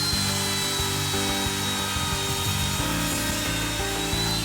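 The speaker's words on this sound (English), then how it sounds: "test my routing on that piece of scrap wood" A wood router makes a test cut on a scrap piece of wood, a loud, close, continuous high-pitched whine with a rough grinding texture and no speech.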